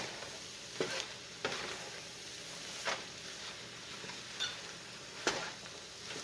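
Nutritional yeast flakes being stirred into a big pan of cauliflower rice, with a soft steady sizzle under several scraping strokes spaced a second or so apart.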